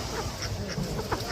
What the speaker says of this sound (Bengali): ছেলে হাঁস নিলে ভালো হবে না মেয়ে হাঁস নিলে ভালো?